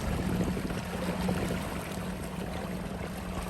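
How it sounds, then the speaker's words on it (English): A Corsiva 505 electric boat cruises along a river, a low steady hum with water washing past the hull and faint wind, no talking. "how little noise there is from this motor"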